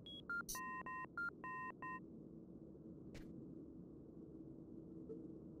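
A telephone in the game Fahrenheit (Indigo Prophecy) is dialed with a quick run of touch-tone beeps, clear and distinct over a low hum, then falls quiet apart from one brief click.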